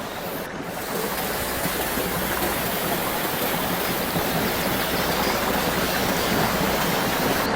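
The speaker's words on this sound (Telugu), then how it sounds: "వాటర్ ఫాల్ కొంచెం లెఫ్ట్ అలా వెళ్తే ఇక్కడ ఇంకొక వాటర్ ఫాల్" A forest waterfall roars in a constant, dense wash of falling water, loud and unbroken throughout, with no voices.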